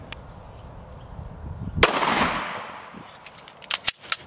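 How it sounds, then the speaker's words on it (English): Shots of regular 9mm full metal jacket rounds fired at paper targets outdoors: one loud crack with a long ringing decay, followed by a few sharper, quieter reports close together near the end. "Again, I'm gonna be shooting the regular 9mm full metal jacket."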